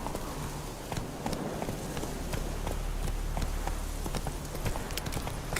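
Roach, a horse in the video game The Witcher 3, gallops with a fast, steady run of hoofbeats that stays close and fairly loud throughout.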